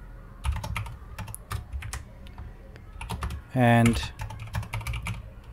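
Computer keyboard keys clacking in uneven bursts while code is typed, close and fairly crisp, with a brief spoken word partway through.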